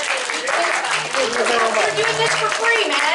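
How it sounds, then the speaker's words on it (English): Audience applause after a documentary screening and discussion: a crowd claps steadily while someone talks over it near the microphone. "give them a round of applause."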